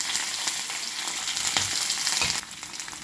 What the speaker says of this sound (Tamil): கடுகு உளுத்தம் பருப்பு போட்ட பிறகு காய்ந்த மிளகாய் போடணும், அப்புறம் பச்சை மிளகாய் போடணும், அப்புறம் இஞ்சி போடணும், கருவேப்பிலை போடணும்.